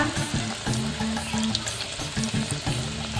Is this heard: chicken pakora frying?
yes